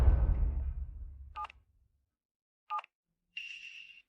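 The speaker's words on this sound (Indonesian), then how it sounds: "Aku akan telepon dia sekarang kalau kamu nggak percaya." Telephone keypad tones sound as a number is dialed, with two short separate DTMF bursts and then a longer steady tone, alone after fading room noise, close and clear.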